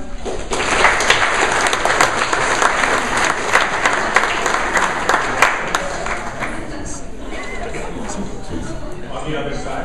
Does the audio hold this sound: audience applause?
yes